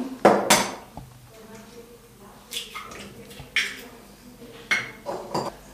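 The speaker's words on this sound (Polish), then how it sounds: "wybijamy jajka do miseczki" Eggs being cracked into a small bowl for a plum cake batter produce sharp taps and knocks, each followed by a light clink of shell or utensil against the dish, with quiet pauses between the close, distinct hits.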